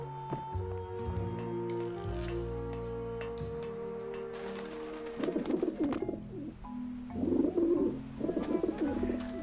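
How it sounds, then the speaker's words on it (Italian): Pigeons coo repeatedly in Grim Fandango Remastered, soft throaty calls in short bursts over a steady, droning game ambience with no one speaking. "guardate quanti piccioni"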